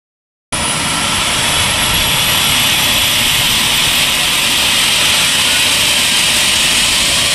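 A fixed-wing aircraft engine starting up ahead of takeoff on a mission: after a short silence a loud, steady engine roar with a high whine cuts in abruptly and holds continuously and close, with no talk over it.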